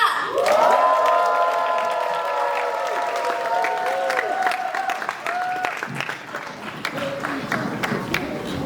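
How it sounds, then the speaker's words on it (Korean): Audience applause and cheering at a 2024 Christmas special performance, a loud crowd clapping and shouting close by with sustained tonal cries rising over the clapping, continuing steadily throughout. "뜨거운 박수와 함성 부탁드립니다."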